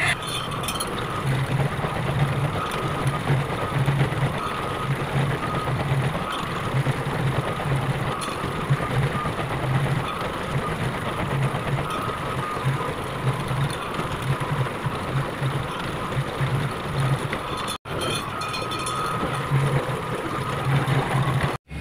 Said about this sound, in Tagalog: padadaanin muna natin sila sa roller hanggang sa makuha natin yung texture na gusto natin